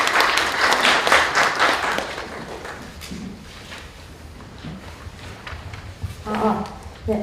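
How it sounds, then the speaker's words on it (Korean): Audience at a civic debate forum applauds in a burst of clapping that fades into scattered claps, with a voice speaking near the end. "박수 부탁드립니다."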